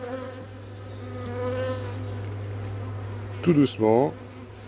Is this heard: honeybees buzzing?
yes